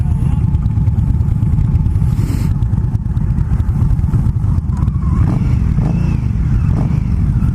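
An Indian Scout motorcycle engine rumbles continuously at close range while riding, its deep exhaust throbbing steadily with slight shifts in pitch.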